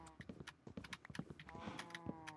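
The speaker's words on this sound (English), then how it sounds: "The cows are just going crazy right now." Cows in a Minecraft survival world give low, faint moos among soft shuffling and clip-clop-like steps, with several animal calls layered close together.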